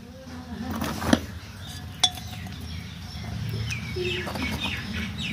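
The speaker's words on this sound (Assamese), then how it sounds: "এইটোত তলফালে এনেকৈ মই মাটিৰ পাত্ৰৰ ভঙা টুকুৰা এনেকৈ মই দি দিম" Broken clay pot shards set into the bottom of a clay pot while repotting an adenium, giving two sharp ceramic clinks a second apart over quiet background hiss and faint outdoor birdsong.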